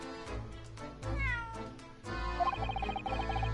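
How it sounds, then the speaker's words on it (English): A cat meows in The Great Ace Attorney Chronicles, a few short rising mews over game music, fairly close and clear. "That was a cheeky little meow, Waghai."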